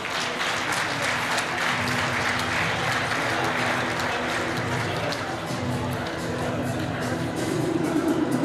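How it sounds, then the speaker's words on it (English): An audience at a school education awards ceremony gives continuous, dense applause that holds steady and loud throughout. Faint speech runs underneath. "We can clap hands for them."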